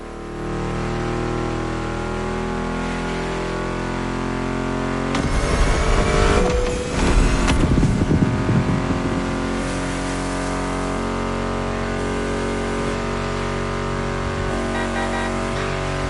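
Car engines in the racing game The Crew Motorfest drone steadily, then swell into a loud, rough revving rush around the middle before settling back to a constant hum, with no talking.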